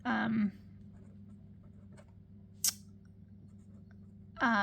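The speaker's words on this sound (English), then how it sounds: "let me just write down priority" A pen writes on paper cash envelopes with faint, soft scratching strokes, heard between brief bursts of someone talking at the start and end.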